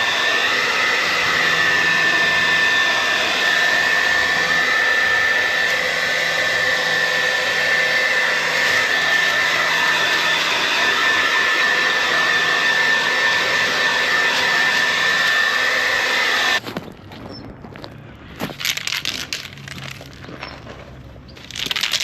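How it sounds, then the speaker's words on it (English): A hairdryer serves as a blower over fresh aerosol car paint, producing a loud, steady rushing whoosh for about sixteen seconds before it cuts off, leaving quieter, uneven room noise. "we use the hairdryer as a blower"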